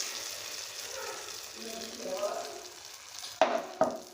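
A hot oil tempering with curry leaves sizzles steadily as it is poured over peanut chutney, with two sharp clatters of a utensil near the end.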